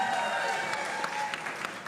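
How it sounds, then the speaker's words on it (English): Comedy club audience at a live standup show clapping on cue: a short burst of dense, lively applause that thins out toward the end. "Clap it up."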